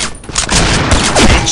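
Sniper rifle shots in a first-person shooter video game: a quick cluster of loud, close gunfire cracks and booms with mechanical clatter, packed into about a second and a half.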